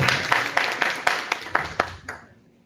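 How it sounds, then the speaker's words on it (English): Students at an education-channel event welcome a guest from JNU with about eight steady, evenly spaced claps, fairly close, tapering off toward the end. "Students, a huge clap for Gauri Behra sir."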